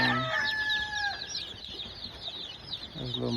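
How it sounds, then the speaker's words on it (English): A young McLean rooster crows and clucks close by, with a strained crow at the start, brief clucks after it and another short call at the end. "That's a little McLean, little rooster."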